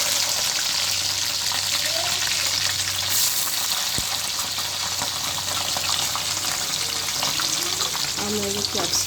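Chicken with ginger-garlic paste and ground spices fries in oil in a pan for chili chicken, giving a loud, steady sizzle throughout with occasional stirring clatter.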